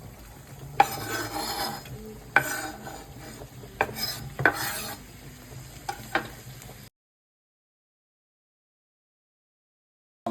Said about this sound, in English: I got my Italian sausages in quarters. So let's go ahead and add them into the meat.